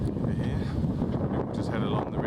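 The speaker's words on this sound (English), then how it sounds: "Oh, it's windy." Gusty wind buffets the microphone by a New Orleans riverfront, a steady loud rumbling roar that persists throughout with no pause.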